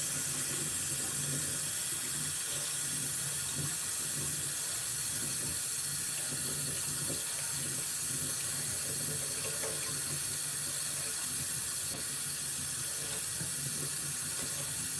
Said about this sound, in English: Clean the brush, more sink content.